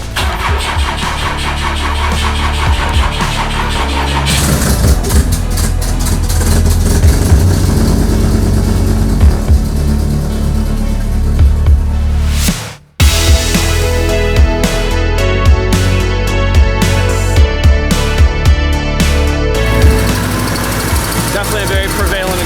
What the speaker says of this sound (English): Definitely a very prevalent exhaust leak again.